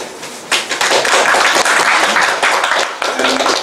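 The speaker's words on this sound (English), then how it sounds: "Let us give a big applause to Ramesh." Seminar audience applauding loudly and steadily, a dense wash of many hands clapping that swells in after a brief moment and holds to the end.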